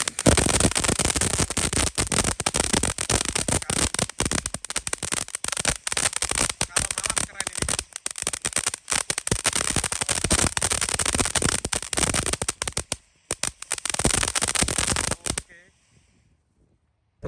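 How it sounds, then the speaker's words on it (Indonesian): A colorful crackling ball firecracker burning during Ramadan, giving off a dense, loud stream of rapid sputtering pops and crackles for about fifteen seconds before cutting out abruptly into near silence. "Ini mercon pretek bola warna-warni. Sudah menyala."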